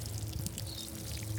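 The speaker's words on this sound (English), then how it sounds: "You really want a watering can that can water gently, almost like it's a little baby rainstorm" A watering can gently pouring water over a newly planted seedling in a garden, a soft steady splashing trickle, close and continuous through the brief moment.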